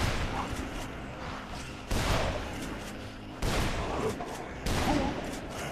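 Shotgun blasts in the Dead Island video game: four heavy booming shots, roughly evenly spaced, each trailing off into a rumbling decay, loud and close.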